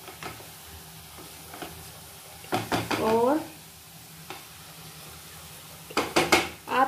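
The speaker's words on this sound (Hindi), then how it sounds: "अब मसालों को अच्छे से मेथी के साथ में मिक्स कर लेते हैं" Spices being stirred into fenugreek leaves and mushroom in a pan, with soft scraping and clinks of the spoon and a couple of louder bursts of stirring, while someone speaks intermittently over it.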